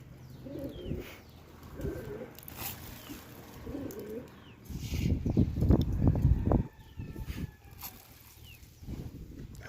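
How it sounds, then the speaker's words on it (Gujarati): Pigeons coo in repeated low, throaty phrases nearby, with a louder burst of rustling and fluttering activity partway through and faint chirps in the background. "ઘણા કબૂતર જો હજી ઓલી બાજુ હે"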